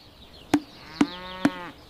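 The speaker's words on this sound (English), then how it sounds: "The cows are waiting for us at the fence." Cows at a farm fence let out three short, close moos, evenly spaced about half a second apart, each a loud low call fading quickly, with quiet background between them.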